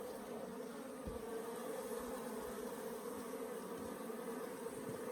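Africanized hybrid honey bees buzz around an open hive in Southern Arizona in a steady, dense drone that never lets up, with no voices over it.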